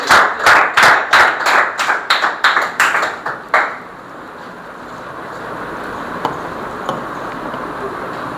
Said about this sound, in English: Pat, clap together.